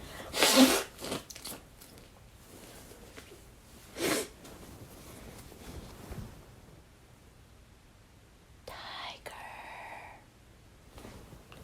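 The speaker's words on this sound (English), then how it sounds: "I'm gonna sneeze again." A sharp, explosive sneeze bursts out at the start, followed by a few quieter sniffs and rustling sounds with no talking.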